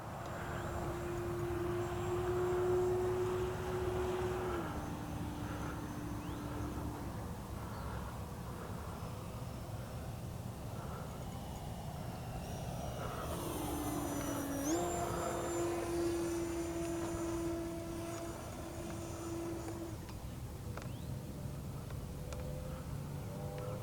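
A Durafly FG-1 radio-controlled model plane engine runs at partial throttle, a steady droning whine that dips in pitch midway, then climbs back and holds, continuous and fairly close throughout.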